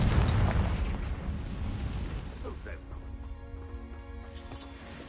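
A Confringo spell goes off in Hogwarts Legacy, a loud blast with a broad rumbling burst for the first few seconds that fades into a lingering decay with tonal game effects.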